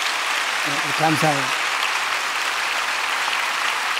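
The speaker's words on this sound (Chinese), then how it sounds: "我们为他们鼓掌" A church congregation claps for the choir in a steady, even wash of applause, with a brief spoken word of thanks over it partway through.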